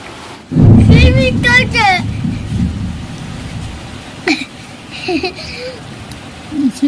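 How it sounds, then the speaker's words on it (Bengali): A village thunderstorm with heavy rain, a loud rumbling thunder burst and steady rain noise close by, with people talking over it. "বৃষ্টি হচ্ছে বন্ধুরা"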